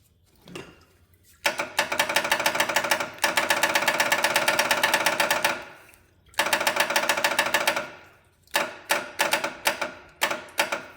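A 1977 John Deere 210 lawn tractor engine is cranked in repeated bursts, a rapid mechanical chatter running several seconds at a time, broken by short pauses and ending in quick stuttering attempts.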